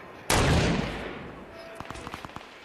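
A hand cannon fires in the video game Fortnite: one loud, close blast that decays over about a second, followed by a rapid string of fainter, more distant gunshots.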